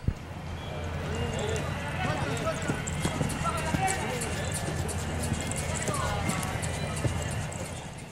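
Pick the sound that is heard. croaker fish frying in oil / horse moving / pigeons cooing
horse moving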